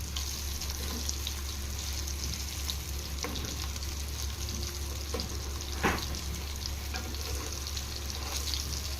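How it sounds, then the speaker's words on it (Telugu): Bitter gourd pieces fry on a medium flame, giving a steady, even sizzle throughout with occasional faint clicks of a utensil and a low constant hum underneath, with no talk. "కాకరకాయలు బాగా ఫ్రై అవుతాయి."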